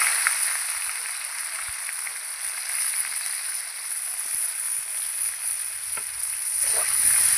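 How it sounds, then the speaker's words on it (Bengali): Sliced onions frying in hot oil with tempering spices in a pan for a chicken curry, giving a steady, close hiss of sizzling throughout with occasional light scrapes of stirring. "পেঁয়াজগুলোকে ভালো করে একটু ভেজে নেব"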